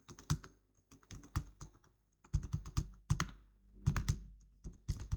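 Bursts of quick keystrokes rattle across a computer keyboard, close and crisp, in uneven clusters with short pauses between words, no voices present.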